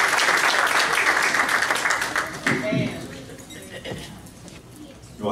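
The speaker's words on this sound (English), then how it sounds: "Give a round of applause for Denise Donovan" A church audience at a Sunday morning service applauds to welcome a speaker, with loud clapping that fades after a couple of seconds into quieter scattered claps and some background voices.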